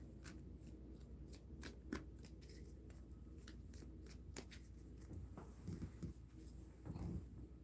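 Quiet crisp riffling and clicking of playing cards in a butterfly shuffle, several quick ruffling bursts close to the microphone, no talking.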